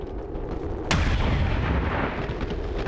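One loud, sudden rifle-like gunshot blasts out in the XCOM 2 video game, followed by a long rumbling tail under steady ambient game noise.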